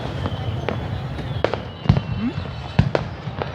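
Fireworks go off in a district display, with sharp, separated bangs and cracks at irregular intervals, some louder than others, over steady background noise while people talk.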